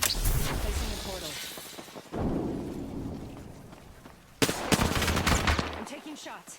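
Video game gunfire comes in sharp, loud bursts: a rapid volley at the start, a quieter stretch of rumbling action, then another hard burst of shots near the end.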